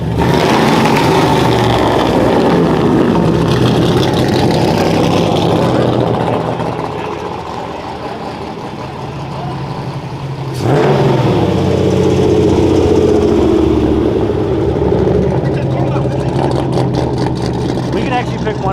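A Chevrolet Camaro at a car show runs its engine and exhaust loudly, with a steady rumbling drone that dips briefly, then swells back up in a sharp rev and holds strong near the listener.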